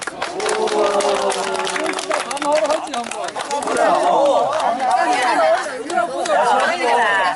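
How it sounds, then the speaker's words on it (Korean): Marathon club members gather outdoors in a parking lot below Geumo Mountain for Sunday morning training and break into applause. A crowd's loud chatter and overlapping voices dominate, with the clapping mixed into the steady noise throughout. "대단히 수고 많이 하셨어요. 박수 한 번"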